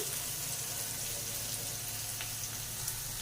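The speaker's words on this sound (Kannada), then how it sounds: "ಈರುಳ್ಳಿ ಫ್ರೈ ಆಗೋವರೆಗೂ ಅಂದರೆ ಕಲರ್ ಚೇಂಜ್ ಆಗೋವರೆಗೂ ಮಾಡಿಕೊಂಡ್ರೆ ಸಾಕಾಗುತ್ತೆ" Onion and green chillies fry in a pan with a steady, soft sizzle, a continuous crackling hiss that stays even and fairly faint throughout, with no talking.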